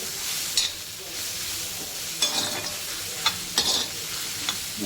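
Chopped onion frying for a prawn masala crackles steadily in the pan, broken by several brief, louder bursts as a spatula stirs and scrapes it.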